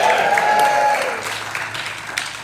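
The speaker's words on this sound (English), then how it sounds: "Big round of applause." Theater audience applauding at a songwriters-in-the-round show at the Rialto Theater, a dense clapping wash that starts loud over lingering music and gradually thins out, with voices talking beneath it.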